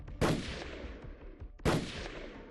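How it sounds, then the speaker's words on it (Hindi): Two sharp gunshots ring out from pistols during a street shooting, each a loud crack with a decaying echo, spaced about a second and a half apart. "एक जगह पहुंचकर तीनों बारी बारी से फायरिंग शुरू कर देते हैं।"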